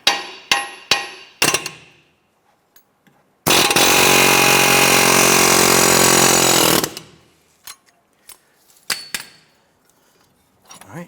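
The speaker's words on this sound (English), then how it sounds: "we're going to tap on our CV axle to go ahead and push this through" Hammer blows on the CV axle end of a 2007-2012 Nissan Versa push it through the steering knuckle, a series of sharp metallic taps up close with a sustained loud grinding burst in the middle.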